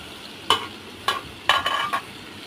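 Potatoes are stir-fried in a pan, with a low sizzle beneath four or five sharp scraping strokes of a spatula, close and distinct.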